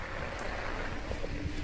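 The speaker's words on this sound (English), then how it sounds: "a really, really hard rain" Very hard rain pours down steadily on a flat backyard, a dense, even hiss with scattered nearby drips and splashes, no voices.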